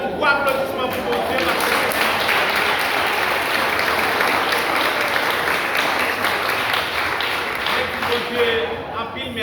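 Sustained applause from a congregation at a Haitian Creole gospel worship event, steady and dense for the full stretch, loud and close with no break.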